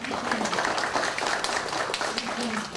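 Audience clapping at a public forum on the I-73 highway, a brief burst of dense, steady applause from a roomful of people, with voices mixed in.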